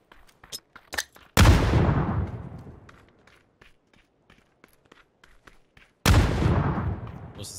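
Two sharp grenade blasts in the video game PUBG, each a sudden loud bang trailing off into a rumbling decay, several seconds apart, with light footsteps and small clicks in the quiet between.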